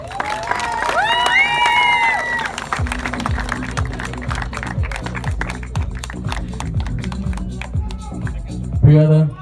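Cheering and clapping from a crowd at a youth championship prize-giving as a runner-up comes forward, with whistles and shouts mixed in and steady claps continuing throughout.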